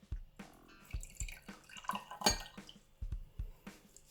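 Tap water goes into a container of Orbeez in a quiet, irregular run of drips, splashes and small clinks, spaced unevenly with short gaps between them, close up and faint.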